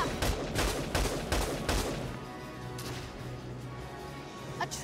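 Gunfire from the Valkyria Chronicles 4 video game: a rapid burst of several loud shots in the first two seconds, then a low rumbling tone, with a faint extra crack near the end.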